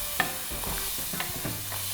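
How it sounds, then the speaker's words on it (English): Onion and garlic hit hot oil together in a pan with a crisp sizzle, broken by a sharp tap and several clattering stirs of a spoon close by, with no voices. "In this pan here, just add a little bit of oil. Once the pan is hot, add the onion and garlic all together."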